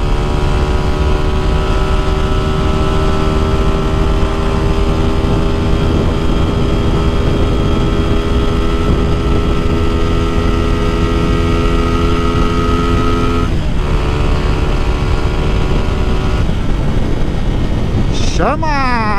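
A 150cc motorcycle without a catalytic converter drones loudly and steadily as it is ridden, a buzzy engine tone holding its pitch with brief shifts near the end.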